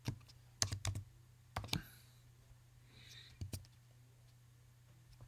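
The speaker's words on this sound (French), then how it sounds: "Et je vais indiquer les différentes valeurs au clavier." Values are typed on a computer keyboard in short, quiet bursts of close key clicks separated by pauses, faint and alone.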